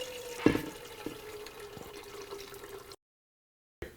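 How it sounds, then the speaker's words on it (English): Beef bourguignon juice pours through a collapsible silicone strainer into a saucepan, a close, steady liquid trickle with a splash near the start that stops abruptly before a brief return at the end. "I'm going to pour right into here the juice. It's going to go into the saucepan."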